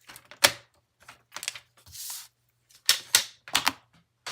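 Sharp, bursty cuts and slides as a paper trimmer slices designer series paper for a handmade double card, several separate strokes in quick succession, close and fairly loud with no talking.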